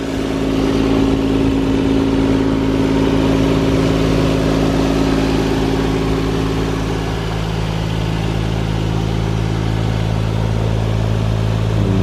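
Steady near hum from a 1991 Toyota Supra MK3's 1JZ engine holding a fairly constant speed with a slight dip partway, continuous and alone without talk.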